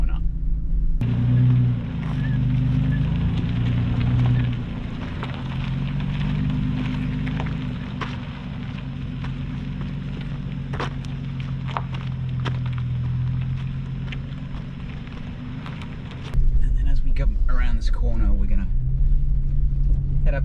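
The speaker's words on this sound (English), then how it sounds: "the ride is pretty good over some of this particularly rough" Engine drone and drivetrain rumble from a 2020 Toyota 4Runner climbing rough off-road terrain, steady and loud inside the cabin with bumps and rattles, someone talking over it, and the engine swelling louder near the end.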